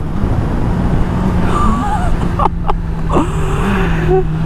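A 2019 Honda CB1000R motorcycle pulls hard under acceleration, its engine note climbing and dropping through gear changes close to the rider. Wind rush runs underneath, and a voice briefly exclaims.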